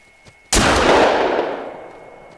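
A single loud rifle shot fired at an elk in the hunting video game theHunter: Call of the Wild cracks sharply and then rolls into a long echoing boom that fades away over about two seconds.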